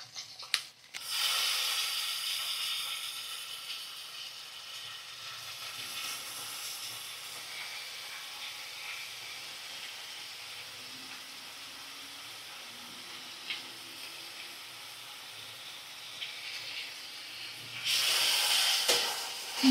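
Ginger-garlic paste, cumin paste and yogurt sizzle and hiss steadily in a hot pan, a loud continuous fry that eases slightly midway and flares up again near the end, with no talking.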